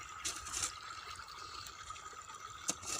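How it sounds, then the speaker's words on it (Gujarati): Irrigation water runs through a farm field in a Gujarati village, making a steady, moderately loud rushing flow that stays even throughout, with a brief splash near the end. "અને આપણું રાબેતા મુજબ કમ્પ્લીટ પાણી હાલે છે."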